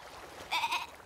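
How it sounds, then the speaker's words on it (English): A goat bleats once, a short, wavering nasal cry lasting under half a second, fairly close and clear against a quiet background. "Is it a goat?"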